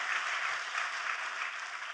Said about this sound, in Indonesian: Tepuk tangannya udah yang paling meriah buat Tuhan kita